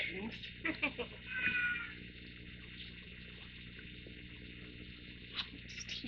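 A mother cat meows a few times, calling her kitten, heard faintly over a steady low hum with some quiet background noise.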